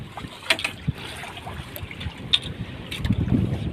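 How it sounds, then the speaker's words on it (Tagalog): Strong northeast monsoon wind buffets a small boat at sea, a steady rough rush of wind noise and water with sporadic knocks and splashes, growing slightly heavier toward the end. "Lakas ng amihan dito mga brad."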